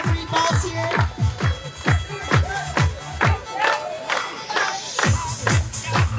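A crowd at an outdoor lumberjack show claps and cheers in bursts of rhythmic, sharp hand claps, with an announcer's voice rising over the noise.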